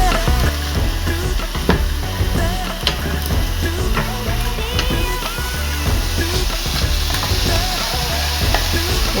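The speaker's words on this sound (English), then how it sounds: "you're going to get all that sauteed" A spinach mixture sautés in a hot pan, sizzling steadily while a utensil stirs and scrapes through it in repeated close strokes.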